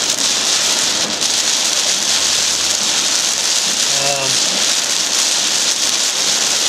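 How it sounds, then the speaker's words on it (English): Heavy tropical storm squall rain drumming on a moving car, a loud, dense, continuous roar close around the cabin, with a faint low hum beneath it. "We're driving into a pretty big squall here. You can barely see."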